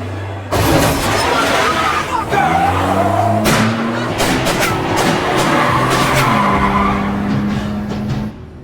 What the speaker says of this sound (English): They wrecked my fucking car!